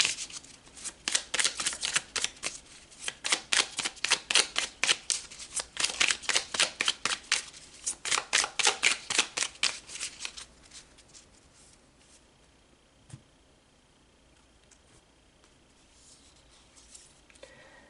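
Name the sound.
shuffling tarot cards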